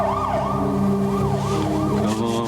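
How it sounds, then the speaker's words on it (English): Emergency vehicle siren wailing in a steady rising-and-falling cycle, loud and fairly close, with low traffic rumble beneath it throughout. "Just hope those sirens are for me."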